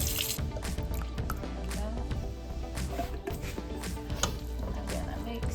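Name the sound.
water swished around in a pasta sauce jar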